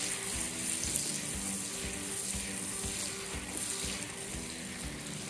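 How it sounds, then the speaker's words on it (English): A stick of butter melting and cooking in a pan, steadily sizzling and crackling with a soft, even hiss and faint pops, fairly quiet and close, with no talk. "Okay, I'm cooking my butter."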